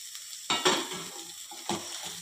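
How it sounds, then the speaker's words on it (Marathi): Chopped ridge gourd hits a hot oil tempering with chilli, red chilli powder and turmeric, giving two sharp bursts of sizzling followed by steady frying crackle and light stirring scrapes in a pan. "आता या फोडणीत आपण ही कापलेली दोडकी घालूया."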